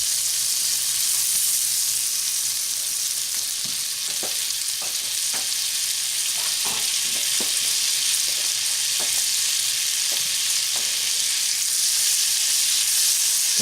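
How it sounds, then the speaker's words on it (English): A tablespoon of butter sizzles on medium heat in a pan for a ginger soy glaze for sous vide mahi mahi. The hiss is loud and continuous, with occasional pops and stirring scrapes, and no one talks. "We're going to throw a tablespoon of butter in there"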